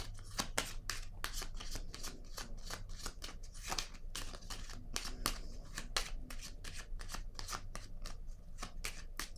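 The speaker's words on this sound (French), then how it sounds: "Et je vais déposer une carte sur prospérité." Tarot cards being handled and laid down on a table, a close, quick run of crisp card snaps and riffles repeating in an uneven rhythm, with no talk.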